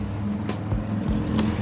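A Gen 1 Ford Raptor engine running with leaking exhaust, a steady low rumble close by with faint ticking puffs over the drone, no talk.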